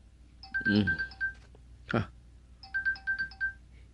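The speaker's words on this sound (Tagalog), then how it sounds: "Sino kaya itong tumatawag?" A mobile phone ringtone for an incoming call plays in short repeated electronic beeping phrases, moderately loud, with a brief pause and a couple of other short sounds in between.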